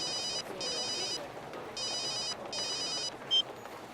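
A telephone rings in repeated electronic bursts with short gaps between them, clear but moderately quiet over a low background hiss.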